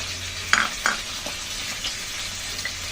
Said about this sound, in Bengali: সরিষার তেল দিয়ে মশলাটা সুন্দর করে মিশিয়ে নিলাম।